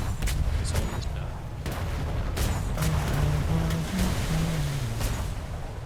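Cannon fire striking a ship's waterline in a naval video game: a series of sharp booming shots with splashy bursts, loud and repeated over a constant roar, with a low whistle-like tone partway through.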